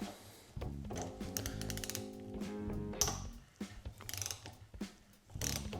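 Metal wrench working a nut on a bicycle part, giving a series of close mechanical clicks and ratcheting scrapes with short pauses between bursts, alone without talk.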